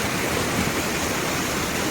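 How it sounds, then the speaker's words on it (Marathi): Rushing water of a waterfall on a farm, a dense, loud, unbroken roar heard close, with no voices over it. "बघा पाणी किती आहे, कसला वाहतोय धबधबा"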